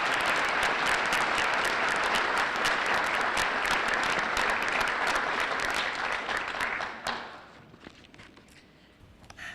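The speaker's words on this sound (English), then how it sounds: "can we do another round of applause?" A large audience at a school Salute to Service event claps in a sustained, loud round of applause that fades out after about seven seconds, leaving a quieter room with scattered sounds.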